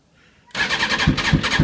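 A Kawasaki ZZR600 motorcycle with the choke pulled cranks without firing. After a short silence the starter whirs loudly and steadily, with a rhythmic chug about four times a second.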